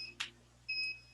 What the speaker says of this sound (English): Is that a fire alarm type thing? Maybe the battery warning.